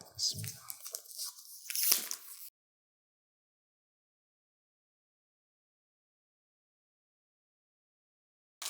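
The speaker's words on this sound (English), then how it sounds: "he has unwrapped the box" Paper wrapping on an Arabian perfume box is torn and crinkled in short, close bursts for about two seconds, then silence; a voice speaks briefly over it.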